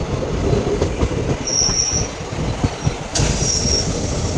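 An express train rolls past nearby on the line, loud and continuous, with rhythmic wheel clatter and two high metallic squeals of the wheels.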